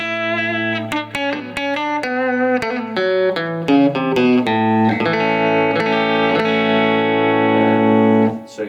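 An electric guitar plays through a Boss Nextone Special amp with reverb on, picked notes and chords ringing out and sustaining with a washy tail, loud and close.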